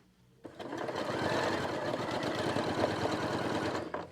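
A sewing machine stitches the seam of a replacement pocket bag at 2.5 stitch length, running steadily and close for about three and a half seconds after a quiet start, with no talk over it.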